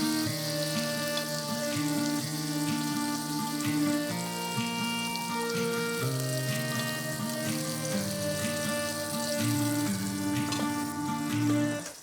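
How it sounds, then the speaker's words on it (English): Satay tofu burgers frying in a pan, a steady close sizzle with a continuous hiss that holds evenly throughout, no voices. "just sizzling away there"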